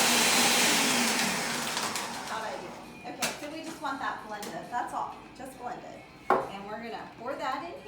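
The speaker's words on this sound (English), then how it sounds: "That's all, just blend it." A Ninja blender whirs loudly through a peach slushee, a dense roaring grind that fades after a couple of seconds into clinks and knocks of ice and containers, with some talk in the background.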